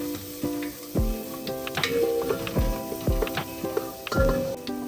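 Green chillies with spices sizzle and fry in a pressure cooker for a chicken biryani, with steady close sizzling broken by several sharp stirring scrapes and clatters, and no talking.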